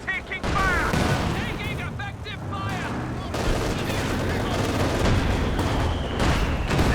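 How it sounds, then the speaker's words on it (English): Katyusha creeping barrage in the video game Company of Heroes 2: a continuous rumble of artillery booms and gunfire that grows heavier partway through, with someone talking over it for much of the time. "Very easily countered by the Katyushas, especially once they get that creeping barrage"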